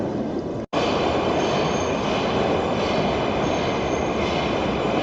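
A Moscow Metro train roaring loudly and steadily through an underground station, with a brief cut near the start and a dense, unbroken rumble afterward.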